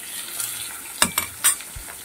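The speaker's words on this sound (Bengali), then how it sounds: "মাছগুলোকে উল্টে দিচ্ছি।" Chanda fish sizzle in mustard oil as they are turned in the pan, with a constant hiss broken by a few sharp scraping clinks of the utensil, close up and without talk.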